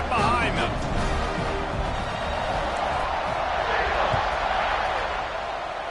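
Stadium crowd at an Auburn vs Arkansas college football game in NCAA 26 roars steadily throughout as a broad, loud wash of cheering, with a commentator talking over it.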